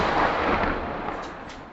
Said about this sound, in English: Ukraine's army is still shelling here.